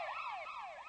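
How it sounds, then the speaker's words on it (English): An ambulance siren wails in repeated rising and falling sweeps, loud and alone, its pitch shifting as the vehicle approaches and moves away. "seems to change its pitch as the ambulance approaches and then distances itself"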